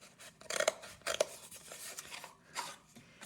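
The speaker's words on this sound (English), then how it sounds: "For the cup, what we'd want to do first is cut down the seam all the way down to the base." Scissors cut down the seam of a cup toward its base while a template is being made, giving close, crisp snips and rasping cuts in irregular bursts with no talking.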